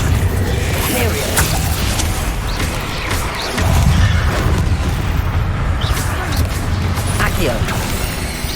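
Fire spell blasts and other spell effects in the Hogwarts Legacy video game crackle and boom continuously at close range, with a heavier burst partway through, beneath a voice shouting spell names.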